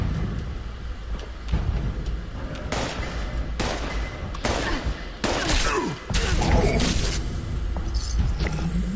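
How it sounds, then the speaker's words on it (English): Fallout 76 gunfire in an online game world, with repeated loud shots and booming bursts scattered across a dense, noisy background. "Who the hell shooting at me?"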